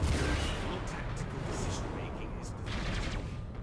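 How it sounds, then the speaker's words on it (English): Sustained ship gunfire from a space battle against Eldar in the Battlefleet Gothic video game, a dense continuous roar of cannon blasts and booms that runs loud for the whole stretch, with voices mixed underneath. "Master Gunner, maintain sustained fire against the Eldar."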